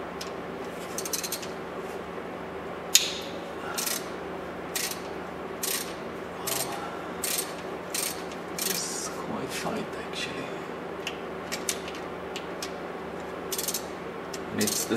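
A socket wrench loosens the oil pickup on a Porsche engine fitted with a baffled oil pan, giving a string of light metallic clicks and ratchet ticks scattered unevenly over a steady background hum.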